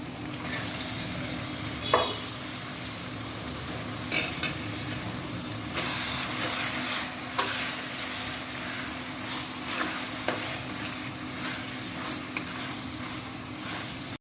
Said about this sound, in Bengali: মশলা খুব ভালো করে কষিয়ে নিয়েছি এখন আমি চিংড়ি মাছ দিয়ে দিচ্ছি